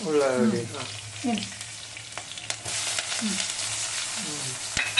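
Onions frying in a pan on a gas stove with green chillies, a steady soft sizzle broken by a few stirring scrapes, close and moderately loud with no talking.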